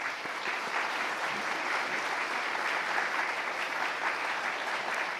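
A church congregation applauds at a retirement and ordination thanksgiving service, a sustained, even wash of many hands clapping that carries on for several seconds without breaks.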